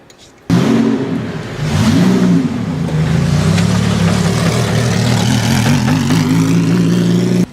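A Lamborghini Squadra Corse race car engine bursts in loud and close, revving up through rising, wavering harmonics and then holding a steady, strong drone from inside the car.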